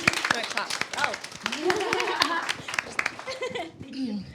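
After a talk about Tumblr and art appropriation, an audience claps in a scattered, fairly close burst, with people talking and a little laughter mixed in.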